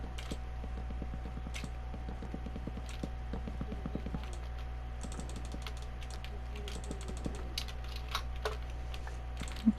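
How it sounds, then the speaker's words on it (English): Rapid keyboard typing and mouse clicks, close and fairly steady, with bursts of light taps over a constant low hum, no talking. "Now I am using keyboard and mouse, so I might be a little bit too loud with my clicking"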